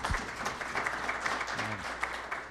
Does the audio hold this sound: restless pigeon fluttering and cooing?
no